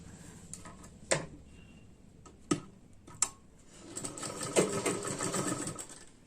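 An electric sewing machine stitches the lining of a boat-neck blouse: a few sharp clicks and brief needle runs come first, then a longer steady whirring burst of stitching near the end.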